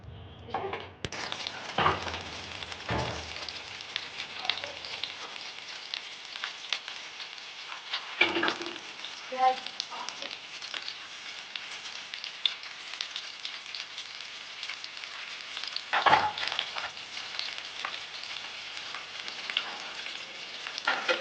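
Sliced onions frying in oil until golden for egg korma, a steady close sizzle and crackle with occasional louder stirring bursts, no voices.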